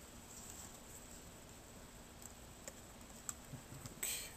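Typing on a computer keyboard during a game session: faint, sparse clicks and taps over a quiet hum, growing into a short burst of keystrokes near the end, with no speech.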